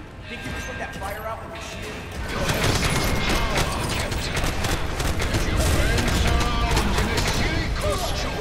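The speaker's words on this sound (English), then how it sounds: "Activating cannon defenses." Cannon defenses in the LEGO Marvel's Avengers game fire in a dense, loud barrage of rapid blasts and mechanical clatter that swells after a couple of seconds and keeps going, with game voices over it.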